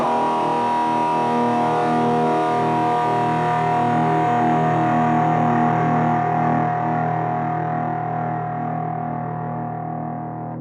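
One distorted electric guitar note holds steady for several seconds, sustaining loudly before gradually tapering off.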